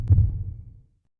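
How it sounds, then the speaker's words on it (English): A single deep, muffled heartbeat thump from the video game The Divine Speaker, loud and close, fading out within about a second into silence. "I don't like the heartbeat sound effect I just heard."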